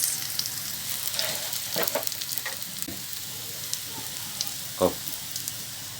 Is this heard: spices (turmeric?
yes